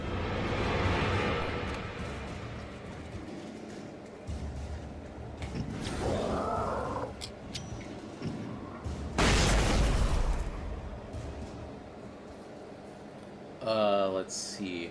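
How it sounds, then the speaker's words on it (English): Flashbang grenade blasts in the video game Alan Wake, a few loud bursts and booms standing out from a dense, busy game soundscape with music, with a sharp broadband burst near the middle and a voice talking over parts. "More flashbang grenades."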